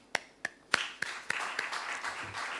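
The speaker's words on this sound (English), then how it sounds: "I think that deserves a clap." Applause at an economic report presentation on African macroeconomic performance: a few sharp, separate claps come first, then they spread into a soft, scattered round of clapping from a modest, fairly distant audience.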